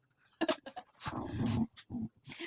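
Several pet dogs indoors, panting, whimpering and letting out small yips and growls in quick bursts, close by, with no voices over them.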